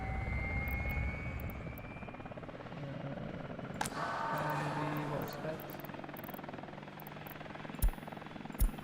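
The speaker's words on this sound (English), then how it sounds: "we have a fire, and the helicopter starts immediately" A firefighting helicopter from the city-building game Workers & Resources: Soviet Republic whirs steadily with a constant rotor drone, while someone talks over it now and then and a few sharp clicks cut in near the end.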